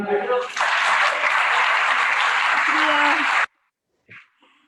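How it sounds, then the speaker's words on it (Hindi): A book launch audience breaks into loud, sustained applause lasting about three seconds, then it cuts off abruptly, followed by a brief soft voice. "भरपूर तालियां"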